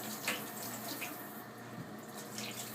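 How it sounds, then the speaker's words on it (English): Lukewarm water runs from a tap into a kitchen sink, a steady hissing splash that stays even and moderately close throughout, with no voices. "First of all, you just turn on some lukewarm water."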